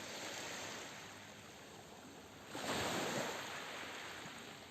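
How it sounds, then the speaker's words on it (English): Ocean waves wash in from a distance, a soft steady hiss with one gentler surge swelling midway before easing back, faint and alone without any talk. "Maybe you can even hear those waves coming all the way from Indonesia to you."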